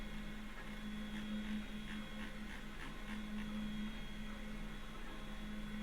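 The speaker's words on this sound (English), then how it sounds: "Yeah, the printer is printing in the background." A 3D printer runs steadily in the background during a live printing stream, giving off a continuous mechanical hum with stepper-motor whine that rises and falls in pitch, no speech over it.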